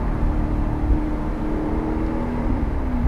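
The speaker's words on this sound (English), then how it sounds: "we're driving the Maz in sport mode. Listen to that exhaust right now" Exhaust of a 2011 Maserati GranTurismo with a Ferrari-built engine, driven in sport mode: a steady, deep low-pitched drone from inside the car, rising slightly in tone near the end as it downshifts.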